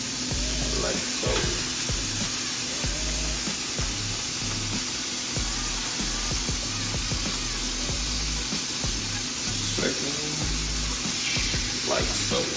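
New York strip steak laid into a hot buttered pan, a steady close hiss of sizzling fat running throughout with a low hum beneath and occasional faint clinks.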